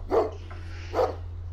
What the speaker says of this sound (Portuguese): Vocês ouviram um latido, todo mundo ouviu.